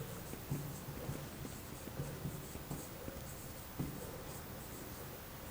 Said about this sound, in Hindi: फॉर्मूला लिख रहा हूं इसका